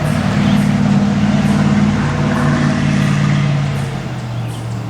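A loud truck rumbles past a vegetable garden, its engine drone steady and close before slowly fading toward the end.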